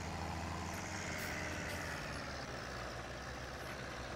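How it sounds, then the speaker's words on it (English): An old tractor on a farm idles steadily, its engine giving a continuous rough, rattling drone at close range with no pauses and no speech. "She's a nice tractor, but you hear the rattles and everything in it"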